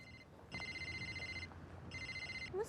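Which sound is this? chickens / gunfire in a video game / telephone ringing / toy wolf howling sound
telephone ringing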